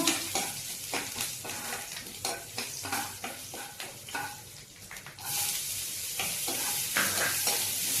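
Garlic cloves drop into hot oil with cumin in a pan for a spinach curry, setting off a bright, steady sizzle with scraping stirs; the frying grows louder and fuller partway through, close and with no voices.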